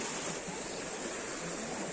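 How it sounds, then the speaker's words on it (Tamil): Floodwater in Tirunelveli rushes over a submerged path near a weakened bridge, a steady, loud broadband roar of flowing water with no pauses and no voices. "அதான் இவ்வளோ தண்ணி ஓடுது பாதையே காணும்"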